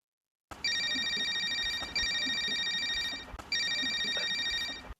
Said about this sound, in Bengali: বন্ধুর একটা ফোন দি।